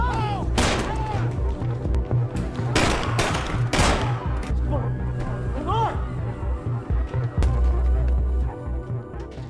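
Bursts of gunfire crack out in quick clusters over a tense film soundtrack, loud and close, with a few scattered booms.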